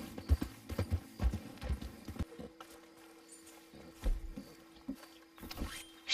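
Horse hooves in the Red Dead video game clip-clop in uneven bursts of thuds, pausing midway and resuming, with a brief whinny-like squeal at the end and no talk.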